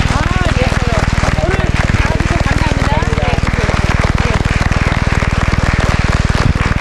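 Studio audience clapping on a Korean broadcast bone marrow donation campaign show, loud and continuous beneath a strong low hum, with voices faintly audible in the mix.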